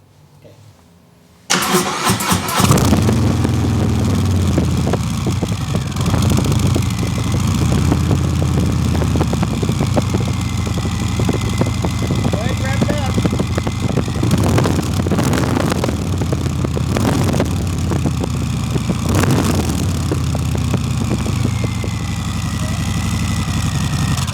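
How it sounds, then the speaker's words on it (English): A 2019 Harley-Davidson Sport Glide motorcycle with stock exhaust fires up abruptly and settles into a loud, steady idle with a throaty exhaust rumble, occasionally revved slightly, close by. "start it up for you so you can hear the stock exhaust"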